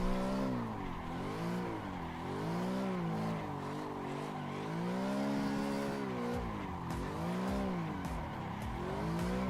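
Video game car tyres held at the limit of slip angle, a sustained wavering squeal over a droning engine that rises and falls in repeated sweeps, loud and continuous throughout with no talk.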